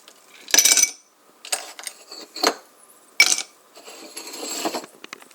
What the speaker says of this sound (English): you put the ice cubes into this glass